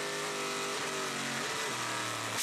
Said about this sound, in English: He's changing down and braking hard, I think, because he knows something's gone wrong.